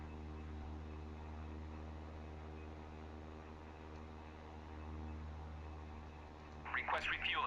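Idling turboprop engine of an A-29 Super Tucano in DCS, a steady droning hum with a constant whine, faint and continuous, with a brief burst of crackly noise near the end.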